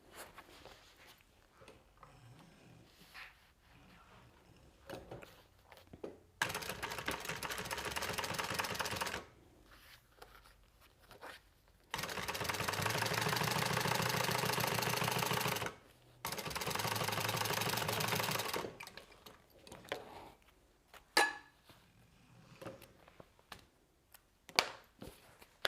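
A sewing machine top stitching a lining runs in three loud bursts of even, rapid mechanical clatter, with quiet pauses between runs and faint handling noise.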